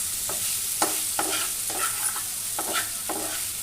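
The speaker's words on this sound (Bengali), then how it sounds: "2 মিনিট ধরে কষিয়ে নেব, যতক্ষণ পর্যন্ত মশলা এবং সবজির কাঁচা গন্ধটা না যায়" Spices and vegetables frying in a pan for a quail egg curry, a steady sizzle broken by several scraping stirs at irregular intervals, close and moderately loud, with no voices.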